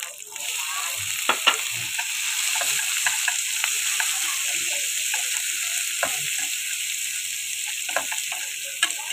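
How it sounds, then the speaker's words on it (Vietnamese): Pineapple and onion stir-fry in a hot pan for braised pompano with pineapple, giving a steady soft sizzle with light ticks and scrapes from stirring, close and without talking. "Đó mình xào cho nó đều cho nó héo héo xíu nha"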